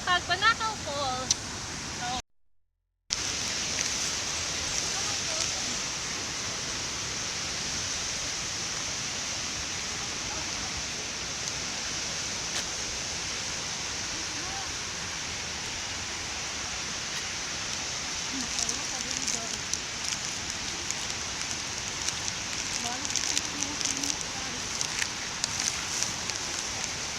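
Tagbanakaw Falls in Maco, Davao de Oro, sends out a steady, loud roar of water that fills the whole clip, broken only by a brief dropout early on.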